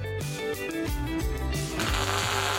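A gas welding torch with its flame set too strong: a tonal mechanical hum, then a loud, steady roaring hiss from close by that fills the last second.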